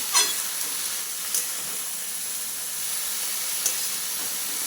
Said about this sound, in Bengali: শাক নেড়ে চেড়ে মিশিয়ে নিলাম